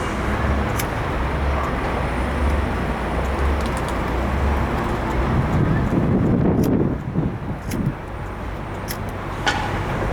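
Strong wind roars and buffets the microphone continuously, with a brief lull near the end and faint road traffic underneath.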